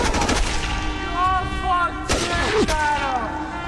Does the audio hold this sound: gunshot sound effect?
yes